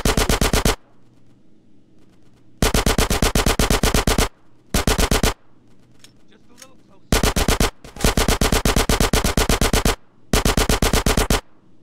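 Video game machine-gun fire in a GTA: San Andreas mission, loud sustained rapid bursts in five long volleys separated by short quieter gaps.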